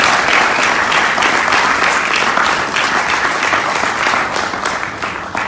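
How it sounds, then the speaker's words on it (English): Indoor audience at a Nation of Islam lecture in Los Angeles giving a loud, sustained round of applause, dense clapping from many hands that holds steady and tapers slightly at the end. "give yourself a round of applause one more time"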